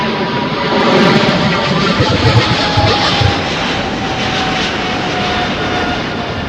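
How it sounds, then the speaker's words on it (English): A China Airlines Cargo Boeing 777 freighter departs LAX with a loud, sustained jet engine roar that swells a little early on, then holds steady at a moderate distance with no speech. "Just departing here on the T5. Cargo on I think that was a 777 freighter."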